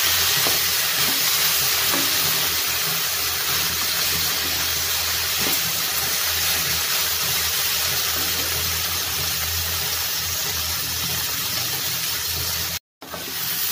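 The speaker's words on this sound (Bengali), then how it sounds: "আমি এটা নাড়াতে থাকছি, গ্যাসটাকে মিডিয়াম হাই মিডিয়াম ফ্লেমে রেখেছি" Potatoes and soybean chunks frying with spices in a pan over a medium-high flame, giving a constant close hiss and sizzle with faint stirring scrapes throughout, broken by a brief dropout near the end, with no talk.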